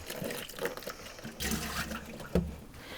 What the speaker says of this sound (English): I'm going to empty the basin into the sink.